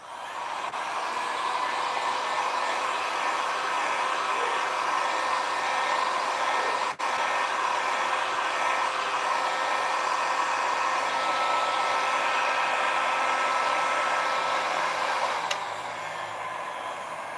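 A hair dryer blows steadily at close range, drying painted wood during a demolition-style patina finish; the loud, even whoosh runs unbroken for the whole stretch with only a brief dip near the middle.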